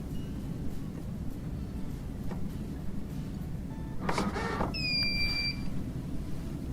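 Motorized Soluna roller shade jogging once, a short whirring motor burst followed by a couple of thin electronic beeps, heard faintly over a steady low room hum with no talking.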